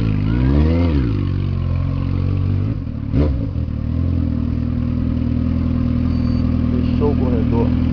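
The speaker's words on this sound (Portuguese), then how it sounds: "Dá pra ouvir o som dos 4 cilindros aí na cidade inteira" A Kawasaki Z750 four-cylinder motorcycle revs up and down, then settles into a steady idle in a city setting, with someone talking over the engine.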